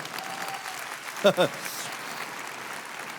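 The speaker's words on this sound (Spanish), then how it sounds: "Dan un aplauso a Dios si entiendes eso." A church congregation applauds, a soft, dense clapping that runs steadily under someone speaking loudly, with a couple of sharp vocal bursts partway through.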